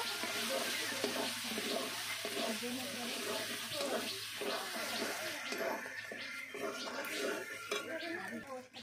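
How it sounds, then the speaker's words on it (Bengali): Potato pieces frying with spices in a pan make a busy mix of sizzling and clattering utensil scrapes against cookware, with a running, watery quality throughout. "এখানে আমি দিয়ে দেবো 5 থেকে 6 পিস আলুর টুকরো, মশলার সঙ্গে ভেজে নেব।"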